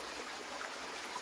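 Spring water flows from a rocky mountain spring, a soft, steady rush of running water heard close and faint, with no voices.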